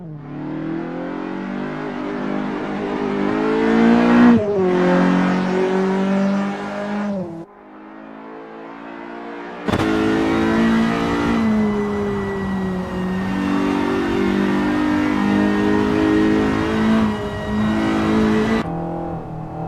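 Race car engine lapping the Goodwood circuit in Assetto Corsa, loud and close, revving up through gears with abrupt shifts and a brief drop in power before surging again.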